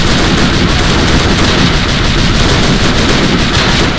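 Continuous rapid machine-gun fire in the World War II strategy game Faces of War, on the Walcheren Isle mission: loud, dense bursts and battlefield noise filling the whole moment with no talk.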